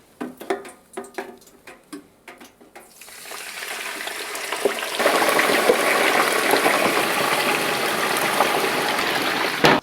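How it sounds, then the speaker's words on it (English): A whole turkey is lowered slowly into hot frying oil. A few sharp clicks come first, then a steady hissing sizzle rises and swells into loud, continuous bubbling crackle. "And then you want to very slowly drop the turkey into the oil."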